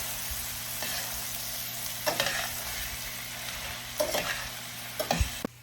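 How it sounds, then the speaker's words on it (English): Onions sizzle steadily in a pan for a French onion chicken casserole, with a few short scraping stirs from a utensil breaking through the constant frying hiss; no one talks. "I'm going to stir around my onions."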